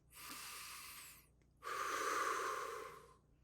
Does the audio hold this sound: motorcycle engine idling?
no